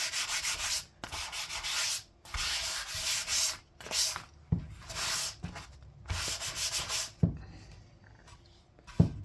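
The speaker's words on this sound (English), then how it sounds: "I hope this sanding isn't drowning out my voice too much" Sandpaper is rubbed over a wooden carving before a water-based top coat goes on, in bursts of rough scratching strokes roughly a second apart. The strokes are close and loud, with short pauses and taps between them.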